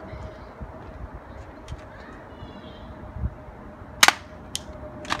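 A BB gun fires a sharp shot, then a second fainter crack follows about half a second later, over outdoor background hiss with faint birdsong earlier.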